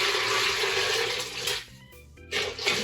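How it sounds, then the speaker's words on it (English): Hot water poured back into a home brewing pot on a beer brew day, a loud continuous rushing splash that cuts off briefly and then resumes, with no talking. "Pour the hot water back in"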